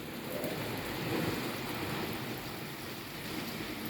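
Rain falls on the Gozo coast in Malta, a steady dense hiss with a low rumbling wash underneath, continuous and fairly loud with no voices.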